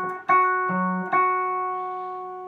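Guitar octave shapes played with the root on the fifth string and a muted string in between, a few plucked double-stops ringing out one after another and sustaining, clean and close with no talking.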